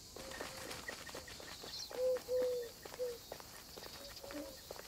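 Birds in the wildlife video game Alba: A Wildlife Adventure give a few short, clear whistled calls over a soft outdoor ambience, with faint rustling and light background sounds around them.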